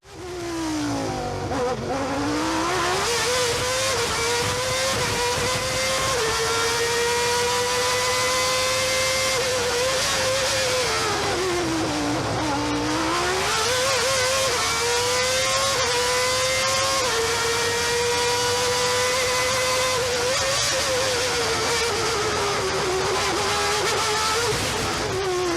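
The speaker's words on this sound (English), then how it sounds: "It's going to be a McLaren MP4/4." A McLaren MP4/4 race car engine screams loudly at high revs, rising and falling through repeated gear changes and corners, sustained and close throughout.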